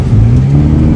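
A car accelerating hard away in a hurry, a loud close engine drone with a rising tone held through the second, no talk over it.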